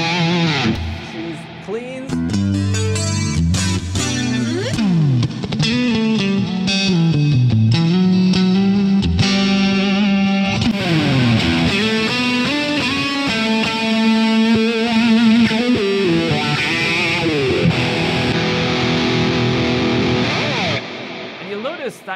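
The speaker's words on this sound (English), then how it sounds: "I can choose sounds that have reverb and delay for solos." Lead electric guitar through the PolyChrome DSP McRocklin Suite with reverb and delay, playing a sustained, distorted solo of bends and fast runs with echoing tails, loud and continuous for about twenty seconds.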